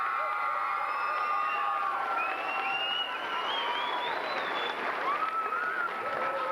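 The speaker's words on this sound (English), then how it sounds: "Can we give him a round of applause?" Steady crowd applause at an elementary school D.A.R.E. graduation, many hands clapping continuously with cheers and children's shouts rising over it.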